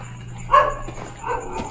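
A dog barks from indoors, one sharp bark followed by a softer second one, moderately distant over a low steady hum.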